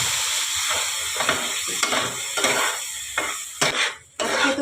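Water poured into a hot pan of semolina for modak produces a loud, continuous hissing sizzle with crackling bursts, briefly dropping away near the end before resuming.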